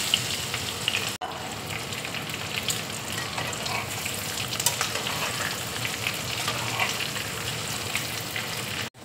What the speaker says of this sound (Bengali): কড়াইয়ে দেখো তেল দিয়েছি, তেল গরম হয়ে গেছে। এবার আমি ফুলকপি দিয়ে দিচ্ছি।